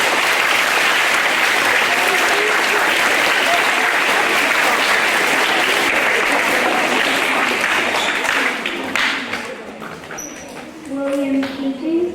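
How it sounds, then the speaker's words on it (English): An audience at a school assembly applauds students with loud, dense clapping that holds for about nine seconds and then thins out, followed by faint voices and shuffling in the hall. "Please give these students a round of applause."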